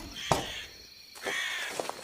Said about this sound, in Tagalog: Yun yung huni ng ibon na nandito kanina.